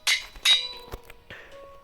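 Metallic clinks and a bright anvil ring from repairing a sword with iron in Minecraft, two sharp hits close together, a thud, then a softer ringing chime fading out.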